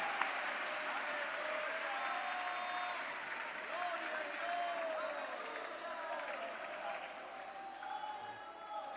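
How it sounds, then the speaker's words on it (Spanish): Congregation applauding in an evangelical church service, a long, even wash of clapping from a large crowd, moderately distant, with voices rising over it. "Denle un aplauso al Señor"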